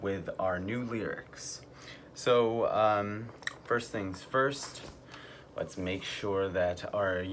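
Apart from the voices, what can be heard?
None of the usual background noises is heard.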